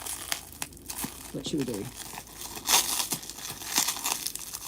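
Wrapping paper crinkles and crumples close by in short bursts as gifts are unwrapped, mixed with quiet talk.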